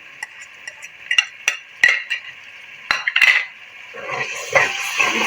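Chopped tomatoes are stirred and sautéed in a pan, with sharp clinks of a spoon against the metal pan in an irregular rhythm, close up, followed by a rising fry.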